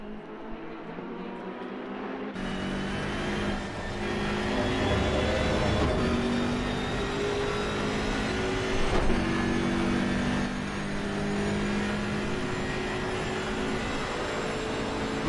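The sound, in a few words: BMW GT3 race car engine at Monza, racing video game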